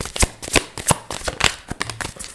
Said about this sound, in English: It's a lot of cards. Flipping over.